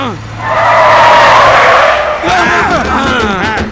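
A vehicle brakes hard and skids, producing a loud, sustained screeching hiss lasting a couple of seconds. Excited voices shout and talk right after it stops.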